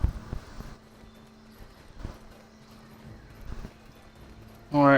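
In the online game Black Desert, a horse's hooves clop in a few sparse, spaced beats. A loud whinny bursts out at the very end, and faint game ambience sits underneath.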